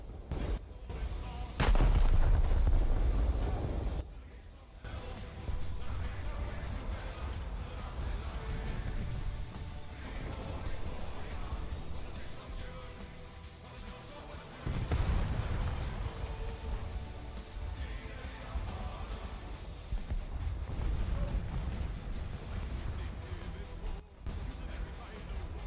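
Heavy naval gunfire in a battleship video game with ships from D-Day, booming blasts and rumbling impacts repeating throughout, loud and echoing, with a player talking over them.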